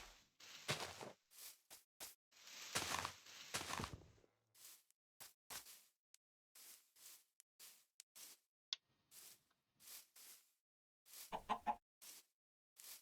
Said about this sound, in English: Okay, definitely some chickens.